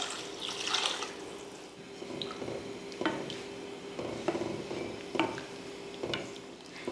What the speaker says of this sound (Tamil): நல்லா தேவையான அளவுக்கு தண்ணி ஊற்றிட்டு